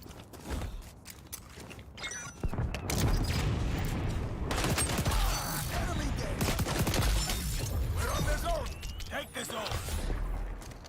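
Dense, continuous gunfire with sharp blasts and grenade bursts in the online shooter XDefiant, a capture-zone match, loud and busy throughout, with player voices and callouts mixed in.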